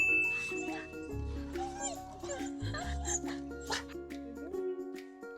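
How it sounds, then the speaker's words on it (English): Sandra's dogs whine, yip and bark excitedly as they greet their returning owner, with high eager whimpers running throughout and a few sharp yelps near the end. "Sandra's dogs were really happy to see him back"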